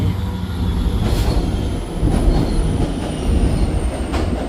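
A D30C diesel locomotive leads a train into a station platform fast, its engine a steady loud rumble with rail noise and faint wheel squeal throughout, close and continuous, with no talk.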